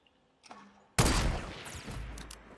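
A short burst of Fortnite gunfire: a faint click, then a sudden loud shot followed by a rattling rush of rapid firing that trails off, fairly close and without talk.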